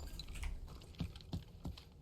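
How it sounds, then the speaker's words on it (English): Faint, quiet computer keyboard keys are pressed during a gaming session, three or four soft separate taps spaced about a third of a second apart over low room noise. "This is the letter Z I use on my keyboard"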